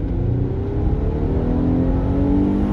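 Infiniti engine revved hard while running on petrol in a garage, a close, sustained roar whose pitch climbs steadily throughout, with no talking.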